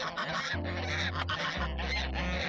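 Male geese honk loudly and close by in a steady run of harsh, overlapping calls lasting the whole moment, with no talking.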